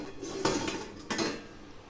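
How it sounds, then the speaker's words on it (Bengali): A steel plate lid lifted off a steamer pot of steamed carrot pitha, giving two distinct metallic clanks about half a second apart over a quiet background. "এবার আমি ঢাকনা খুলছি"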